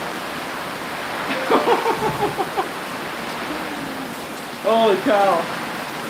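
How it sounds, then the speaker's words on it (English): Dense, heavy rain hisses steadily in the background during a hailstorm, with water coming into a garage, while a person speaks briefly over it, sounding close and surprised. "That is intense rain."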